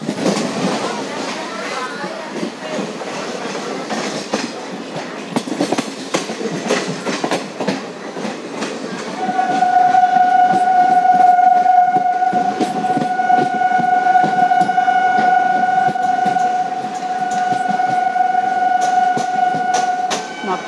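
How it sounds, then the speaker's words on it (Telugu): A train passes along a railway line near Nidadavolu, where track doubling and electrification works are under way. There is a continuous loud rumble with rhythmic clatter, and a sustained horn-like tone sounds midway and holds to the end. "ఎక్కువ ట్రైన్స్ తిరుగుతాయి ఇటు."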